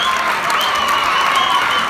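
Football crowd at a Castellammare match in the Eccellenza Sicilia league roaring and applauding after the team's first goal, a steady dense wash of cheers and clapping throughout.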